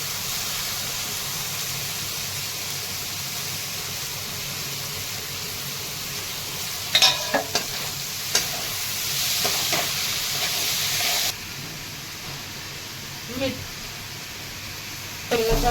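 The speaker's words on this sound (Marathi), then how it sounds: "कांदा पण छान आता परतायला लागलेला आहे" Chopped onion and green chillies fry in a pan with a steady low sizzle and hiss, broken by a few sharp clatters of stirring, while a voice talks over it.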